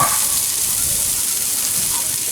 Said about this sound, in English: doesn't that sound great? I just love the sizzle